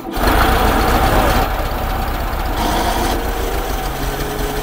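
An old engine, restarted after sitting unused for twenty years, runs with a steady rough chugging rumble and a faint high whine, close and continuous.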